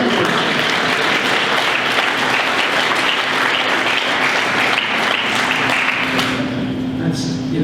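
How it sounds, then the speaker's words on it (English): Steady applause fills a room during a speech, dense continuous clapping from an audience that tapers slightly at the end. "You should clap about that."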